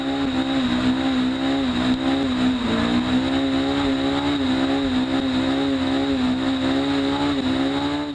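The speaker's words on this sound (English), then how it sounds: "More power, smooth surface, and the clutch held just fine for a nice, long burnout." A car with a manual transmission does a long burnout on a smooth surface after the clutch is dumped above 7,000 RPM. The engine holds a loud, sustained high rev and the tires squeal steadily throughout, up close.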